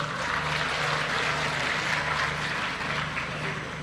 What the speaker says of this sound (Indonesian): Tepuk tangan buat ibu-ibu PNM Mekar.